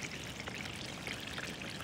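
Water pours and trickles steadily off an Intex 3.66 x 0.90 pool cover, a soft, continuous splashing stream heard alone at low volume.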